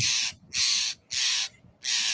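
A blue jay gives four harsh, raspy calls in a steady rhythm, each about a quarter second long, loud and close with quiet gaps between.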